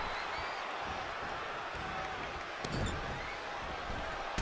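A WWE 2K20 arena crowd roars in a steady wash of cheering, with a sharp thud of impact partway through rising briefly above the din.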